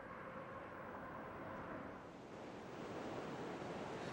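Massive volume of the Niagara River plunging over Niagara Falls, a steady, dense roar of rushing water that holds constant throughout, loud and continuous with no talk.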